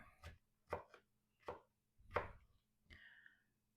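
A knife chopping peppers on a cutting board for Haitian pikliz slaw: five separate, crisp chops spaced about half a second apart, close and clear with near silence between strokes.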